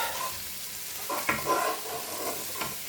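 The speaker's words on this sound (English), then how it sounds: "Now what we need to do is cook off the spices, the rawness of the spices" Spices frying in oil in a pan, a faint steady sizzle with a few soft scrapes and stirring clicks.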